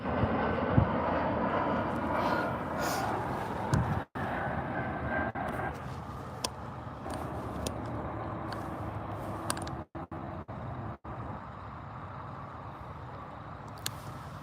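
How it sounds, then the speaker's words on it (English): An American Airlines Embraer E175 jet landing on runway 18 right at DFW airport, a distant sustained engine roar and rumble with wind buffeting across a busy early-morning airfield. "Here comes an American Airlines E175 landing at DFW runway 18 right."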